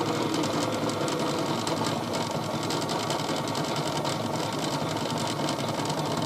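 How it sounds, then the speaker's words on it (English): A Miele Novotronic toy washing machine by Theo Klein spins at full speed, giving a constant close whirring, rattling motor drone with a fast vibrating pulse, no talk. "If you ever listen to the sound of the machine while spinning"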